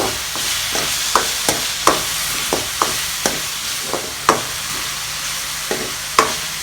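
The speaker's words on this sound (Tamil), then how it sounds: "இந்த இஞ்சி பூண்டு பேஸ்ட் பச்சை வாசம் போகிற வரைக்கும் நல்லா வதக்கிக்கங்க" Ginger garlic paste sautéing in a pan for veg rolls, with a steady hiss of frying under about a dozen sharp scrapes and knocks of a spoon stirring against the pan.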